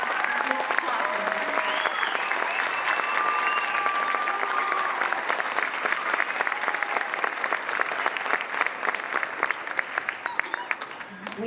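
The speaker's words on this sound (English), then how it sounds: "let's give the kids one more round of applause" Sustained applause from an audience at an end-of-year middle school music concert in Berrien Springs, Michigan, steady and dense throughout with a faint voice or two underneath, tapering slightly near the end.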